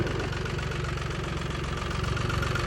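A Jinma 40 tractor, a Chinese-built forty-horsepower machine, idles nearby with a steady, throbbing diesel chug and a faint rhythmic knock, running alone without voices.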